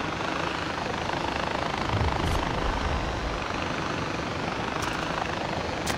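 Helicopter flying in the video game Far Cry 4, a steady loud rotor and engine roar that fills the whole clip without a break, with no talking over it.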